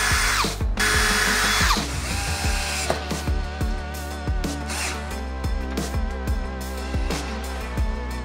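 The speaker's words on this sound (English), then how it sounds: "all it is an 1 3/8 Forstner bit and it's got a collar on it so that it drills the right" A drill boring a hinge cup hole with a 1 3/8 inch Forstner bit in a collared depth-stop jig in a garage shop, a loud, steady motor whine with shifting pitch and grinding as the bit cuts, close up and continuous.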